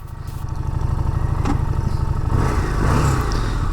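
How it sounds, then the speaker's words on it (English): A Harley-Davidson Street Rod motorcycle engine throbs with a steady rapid pulsing exhaust beat, close and loud, building slightly as it revs up with a clunk midway. "Different engine than what I'm used to."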